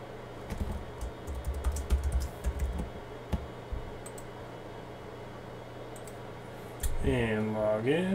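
Keys tap on a computer keyboard while a password is entered during a Windows Server 2019 install, a quick, uneven run of faint clicks over a quiet room hum, ending in a louder tonal whir.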